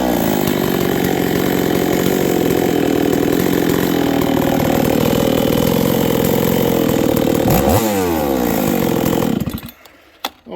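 A Husqvarna 357xp chainsaw, under repair for its auto decompression valve and intake, idles loudly and steadily with no bar fitted, holding a rough buzzing drone before cutting off near the end.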